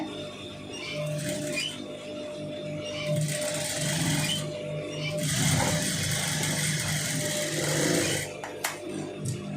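A sewing machine stitches a long sleeve, giving a steady mechanical whir that runs almost without pause, swelling slightly in a few bursts and holding at a moderate, close level.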